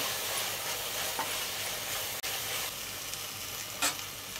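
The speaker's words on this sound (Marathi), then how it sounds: "आपण सगळे मसाले परतून घेतलेत." Dry spices (turmeric, red chilli powder and garam masala) are sautéed in a pan for Maharashtrian prawn rice, giving a continuous close sizzle with soft stirring scrapes and a brief break midway.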